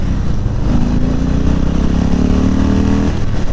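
A 2018 Harley-Davidson Softail Slim engine runs loud and close under a rider on the road, a steady deep rumble with a low drone and rising pitch as it pulls.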